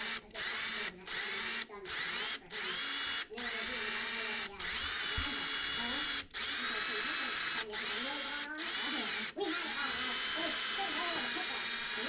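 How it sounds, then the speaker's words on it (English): A power drill with a 13/64 bit bores into the frame of a 2024 Turbo R during skid plate and rock slider installation, loud high-pitched whirring in repeated bursts broken by short pauses, with people talking nearby. "So it's 13/64 to drill a hole into the frame."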